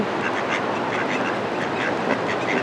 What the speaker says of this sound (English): Probably shouldn't be teasing the ducks, huh?